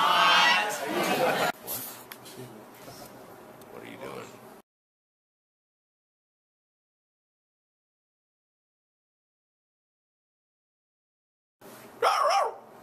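A person imitates a barking dog at a barn dance and BBQ. A loud burst of voiced barking and chatter gives way to a long silence, and then a short, loud bark imitation follows at the end.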